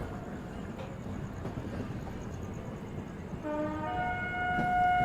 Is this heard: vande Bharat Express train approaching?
yes